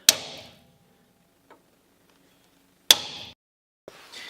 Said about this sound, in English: you want to get your punch, you want to locate the center of the spot weld